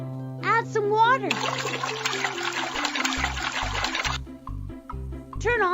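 Cartoon water gushes into a sand-and-cement mix at a kids' road and bridge construction site, a steady splashing rush of about three seconds between cheerful voices, with a thumping low beat underneath.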